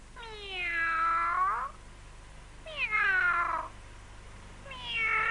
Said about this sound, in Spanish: Ha sido un gato, no te preocupes.